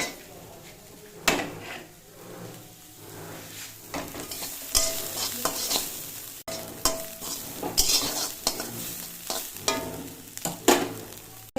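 Radish greens fry with onion and green chilli in a wok over a high flame, giving a crackling sizzle broken by repeated clanks and scrapes of a spatula stirring against the metal.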